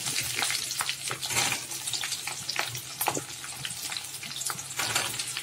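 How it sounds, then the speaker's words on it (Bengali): Sliced onion frying in oil with lightly browned garlic for a chili egg dish; a close, steady sizzle with crackling pops and stirring scrapes throughout, no talking. "এই যে রসুনটা একটু লাল করে ভেজে নিয়েছি হালকা করে। এর মধ্যে পেঁয়াজটা দিয়ে দিচ্ছি"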